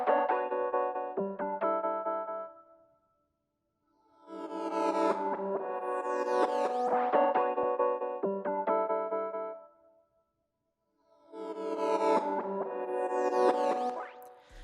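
A Serum synth preset called Key Joy plays ambient beat chords in three phrases with gaps between them. The first phrase has clean, stepped notes, and the later phrases swell with a reversed, smearing wash that trails off.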